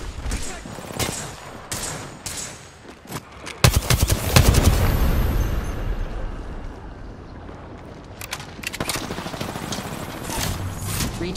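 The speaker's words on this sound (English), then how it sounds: "Firing missiles." Spaceship in a video game launching missiles: a volley of sharp rapid bursts and a loud whooshing blast that trails off, then scattered pops later, close and loud over a low engine rumble.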